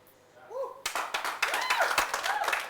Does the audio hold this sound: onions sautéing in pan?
no